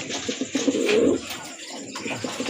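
A female Lahore pigeon gives a short, close, throaty coo that rises and fades within about a second, followed by soft quieter rustling.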